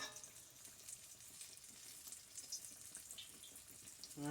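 Homemade Southern apple fritters fry in bubbling oil, sending out a faint, steady hiss and fizz with soft crackles, and a brief clatter comes in at the very end.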